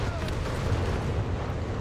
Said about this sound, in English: He's in the artillery overwatch.